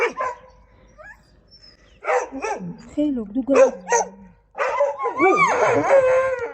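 Dogs in a fight, barking, yelping and whining in short bursts while a person speaks over them close by.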